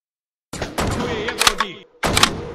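Rapid bursts of video-game gunfire from IGI 3 during a firefight mission, dense crackling volleys with short gaps and a brief pause before a final loud burst.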